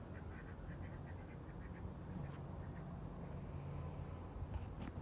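Ducks quack faintly in a short run of repeated calls, with a couple more quacks near the end over a steady low background hum.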